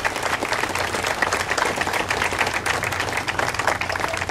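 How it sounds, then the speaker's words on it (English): A crowd at an outdoor Superman Celebration applauds the organizing committee members, dense sustained clapping that stays loud and even throughout. "let's give them a round of applause"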